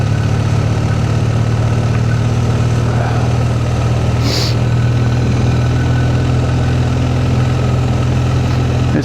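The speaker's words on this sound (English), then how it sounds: "I can't get it in third because the third gear just splutters." A BMW motorcycle engine held in third gear on a winding Scottish mountain pass, running as a loud, steady, close drone with an uneven sputtering edge, and one brief sharper burst partway through.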